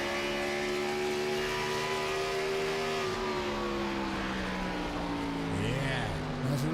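Chevrolet Gen 6 Cup Series stock-car engines roar in a sim racing game at Gateway, a steady high-revving drone that holds pitch, then dips and climbs as the cars shift and pass.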